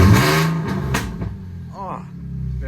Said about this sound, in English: There's probably an exhaust leak, and with the pops and bangs it's gonna sound weird